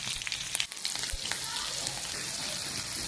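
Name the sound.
mustard seeds and green chillies tempering in hot fish-frying oil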